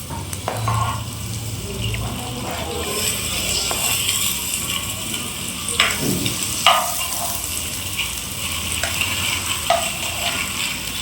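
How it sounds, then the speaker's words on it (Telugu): Chopped onions fry in a pan with a curry tempering, giving a continuous moderate sizzle broken by scraping stirs and a few sharp spatula clicks against the pan, with no talking. "ఆనియన్స్ వేసుకుంటున్నా. బాగా ఫ్రై చేయాలండి."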